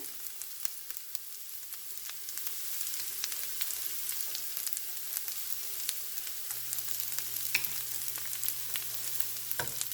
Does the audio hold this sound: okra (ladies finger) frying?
yes